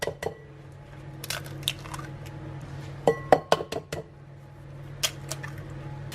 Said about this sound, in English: I'm going to crack in the 2 eggs